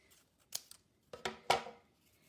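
Scissors snip the end off a piece of craft material in a few quiet, close, crisp cuts, with sharp clicks from the closing blades and no talking.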